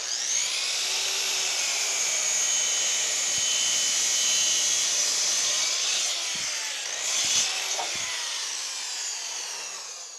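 A power saw rips steadily through a wooden board for a blanket ladder, a loud, continuous high-pitched whine that holds for about ten seconds with slight shifts in pitch and a few faint knocks underneath.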